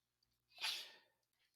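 A single sneeze bursts out alone in a quiet classroom-like setting, one sharp forceful explosion of breath that fades quickly.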